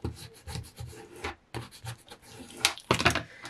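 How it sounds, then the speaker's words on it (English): A squeegee scraping vinyl down onto a transfer image on a coffee mug project, close rubbing strokes in quick short passes with a brief pause, then sharper scratchy swipes near the end. "I'm going to scrape it down with my"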